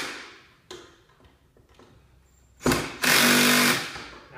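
A torque-adjusted electric screw gun drives screws into the plastic housing of an Earthwise snow thrower during assembly, giving a few faint clicks followed by two loud, close whirring bursts near the end.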